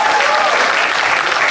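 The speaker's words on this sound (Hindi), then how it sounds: "तालियां बजती रहनी चाहिए कुशल भाई" Dense, steady applause from a live comedy crowdwork audience, loud and continuous throughout with no voices over it.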